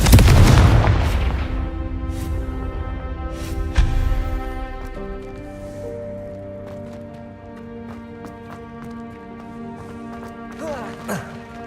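Hogwarts Legacy Confringo spell exploding with a loud booming blast at the start, a second impact shortly after, then a ringing, humming decay and a faint later crackle, with a voice calling out.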